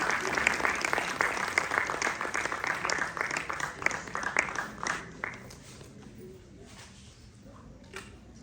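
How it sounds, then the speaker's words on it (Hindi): Loud, sustained audience applause with dense clapping welcoming a speaker at a yoga conference in a university hall, fading out after about five seconds. "जोरदार तालियों के साथ स्वागत कीजिए सर।"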